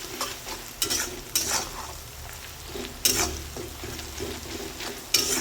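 Chopped onions with salt being stirred and fried in a pan, a continuous sizzle broken by repeated scraping stirs at irregular intervals, close and fairly loud with no talking.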